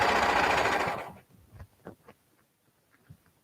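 A sewing machine runs in one steady burst for about a second, then stops, leaving only faint handling sounds and light clicks.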